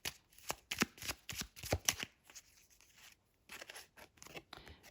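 Tarot cards being shuffled by hand, close and crisp: a quick run of sharp riffling flicks, a brief pause, then softer card slides and snaps, with no speech.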